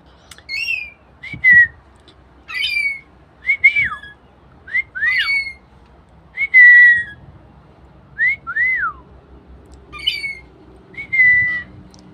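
A rainbow lorikeet gives a run of bright, close whistles and chirpy squawks in short bursts, about a dozen calls spread evenly with brief pauses between them, over a faint low background rumble.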